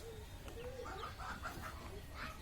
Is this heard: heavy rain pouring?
no